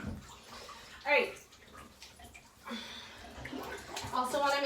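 Water is poured over a dog's head and chest during a bath, with a short splash and then a softer trickle and gurgle, while someone talks quietly.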